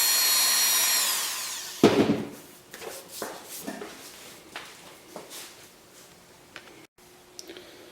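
Rough JB Weld epoxy being sanded off a cracked bakelite cabinet of a Philco radio under restoration: a steady whirring tool for nearly two seconds, then a sharp clack followed by irregular scraping and rubbing strokes close to the microphone.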